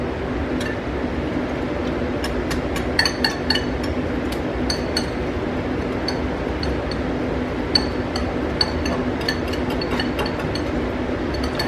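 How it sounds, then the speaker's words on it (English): Jalapeno jack cornbread batter ingredients whisked in a bowl, with a steady stream of light metallic clinks and taps against the bowl's side running throughout, fairly close and alone. "We're just going to whisk all of these together."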